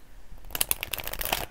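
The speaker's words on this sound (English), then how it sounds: "Now I'm shuffling the Halloween Oracle." Halloween Oracle cards being shuffled by hand, a quick run of crisp riffling flutters and soft slaps that starts after a short quiet pause and stays close and clear.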